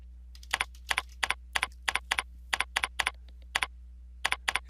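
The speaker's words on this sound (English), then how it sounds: "I'm going to hit enter, tab, and I'm going to type Monday to Wednesday." Typing on a computer keyboard while creating a flyer in Word, with quick clusters of crisp, close key clicks in irregular bursts over a low steady hum.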